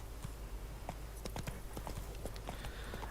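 Hooves of the horse Roach clip-clopping in The Witcher 3 video game, a steady galloping rhythm of sharp close hoof strikes running throughout with no talk.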